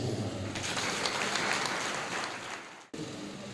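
A church congregation applauding at a celebration, a dense, even wash of many hands clapping that carries on for several seconds, then cuts off abruptly and resumes faintly.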